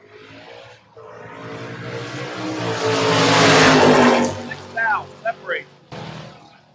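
Drag race cars, a Nova and a Mustang, roar in a long rising and fading run at the strip, loud and broad, with an announcer talking over it and brief sharp bursts near the end.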